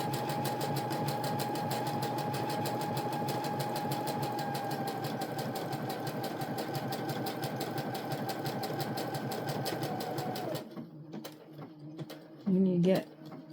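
A sewing machine running a tight zigzag stitch while repairing crop pants, a fast steady mechanical chatter for about ten seconds that then stops, followed by quiet handling noises.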